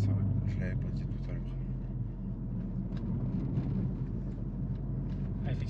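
A VW Golf GTI Clubsport Stage 2 with DSG sits rumbling at about 1500 rpm, a steady low drone under a voice speaking nearby.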